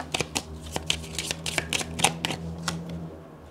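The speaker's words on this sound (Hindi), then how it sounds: "आपके सामने ही कार्ड्स निकाले, और मैंने भी क्या निकाले हैं कार्ड्स अपने, आधे तो कार्ड्स अपने आप निकले हैं" Tarot cards are shuffled and drawn close up, with a quick run of crisp flicks and riffles in uneven bursts that settles toward the end.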